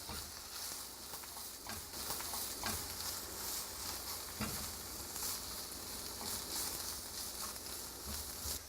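Food with Brussels sprouts being stirred in a pan, a constant faint frying sizzle with soft, scattered scraping taps from the stirring utensil.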